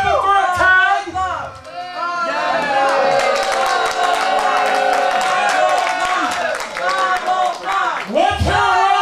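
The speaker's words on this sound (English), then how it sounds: "Let's hear a round of applause for Triple Threat Tag." A professional wrestling crowd claps and cheers loudly for a triple threat tag match, with someone talking over the start and end while the dense applause and whoops fill the middle.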